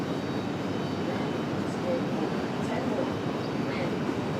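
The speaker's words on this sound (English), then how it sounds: "Republic Airways 4639 coming up next." Republic Airways jet at Raleigh-Durham International Airport, a steady broad engine roar holding even throughout, with faint voices underneath.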